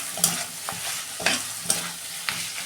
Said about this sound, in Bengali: ভালো করে একটু কষে নেবো